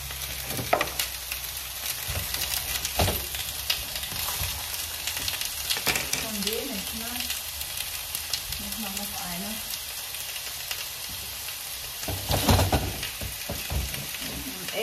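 Steady, dense sizzling of potatoes frying in a hot pan, a continuous crackle with occasional louder spits and faint background murmurs.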